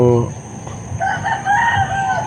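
A rooster crows loudly and close by in a drawn-out call, with brief clucking at the start.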